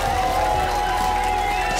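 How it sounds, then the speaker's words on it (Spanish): A studio audience at a televised contest claps and cheers for a contestant, a steady roar of applause with music behind it. "Un fuerte aplauso para Stephanie"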